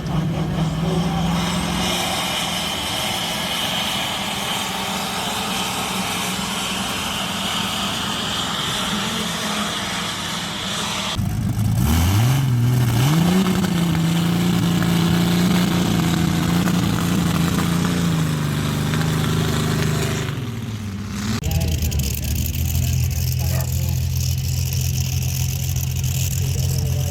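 A turbocharged engine at a steam rally roars loudly and continuously, its pitch rising and holding during a sustained rev before dropping back to a steady rumble near the microphone.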